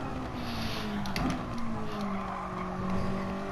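Mazda race car in the GT Sport racing game at Suzuka braking hard from speed, a steady engine drone with a falling pitch and brief tyre squeal, loud and continuous.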